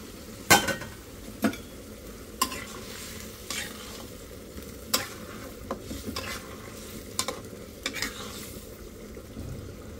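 Fish and egg curry simmering in a pan as a spoon stirs it, a low steady bubbling sizzle broken by sharp clinks of the utensil against the pan at irregular intervals, close and without talking.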